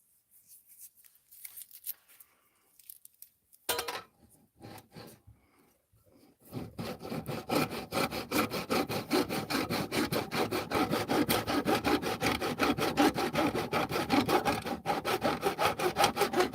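A small piece of wood for a BC250 case is sawn by hand, with a few scattered scrapes and taps first, then a long run of rapid, even back-and-forth strokes, close and steady.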